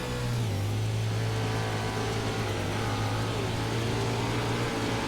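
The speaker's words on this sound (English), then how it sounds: "You can still hear him there, wheel to wheel with McLean down the back straightaway." Non-wing sprint car engine racing at Knoxville Raceway, a loud, continuous high-revving roar with a steady droning pitch that shifts slightly as cars run wheel to wheel down the back straightaway.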